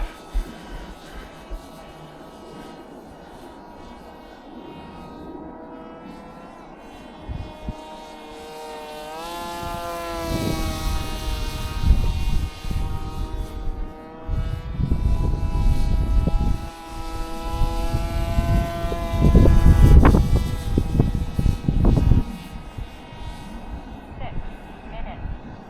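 A Flite Test Space Fighter RC plane flies on a windy day, its propeller whine rising and falling in pitch as it passes, growing louder mid-flight with gusty wind buffeting the microphone and a voice talking.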